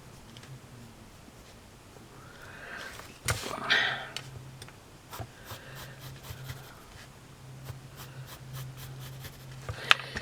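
A pencil scratches in short, quiet strokes as it traces around a small miniature oar on a tabletop, with faint taps and ticks between the strokes.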